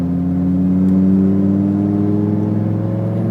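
A Lamborghini STO engine accelerates hard around a race track, a loud, steady mid-pitched roar with rising harmonics as revs climb, close and continuous with no voices.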